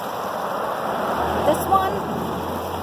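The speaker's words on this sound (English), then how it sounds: "Another beautiful creek." A creek near a house flows in a steady broadband wash of water, close and continuous, while a person speaks briefly over it.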